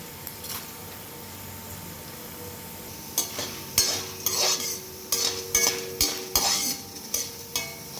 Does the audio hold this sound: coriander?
yes